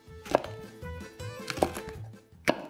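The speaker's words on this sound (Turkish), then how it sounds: "Biberler de eriyip gitmesinler diye onları da iri parçalar haline doğrayacağız." Hot green peppers are cut into large pieces with a knife on a cutting board, three sharp close knocks spaced about a second apart with soft scraping between them.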